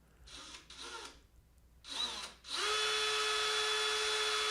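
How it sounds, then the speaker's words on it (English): Power drill boring a hole in aluminum RV-14 aircraft wing parts during riveting work, with short bursts of drilling followed by a steady, loud sustained whine close to the microphone. "you can angle the drill bit slightly to walk it toward the center before you go in too deeply."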